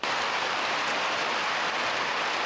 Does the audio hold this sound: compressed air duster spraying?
no